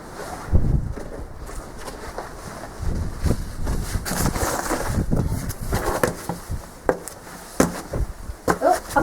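Gusty wind buffets the microphone outdoors at the ruins of Cilgerran Castle, a continuous rough low roar that swells and drops in bursts, with faint footsteps and scattered knocks beneath.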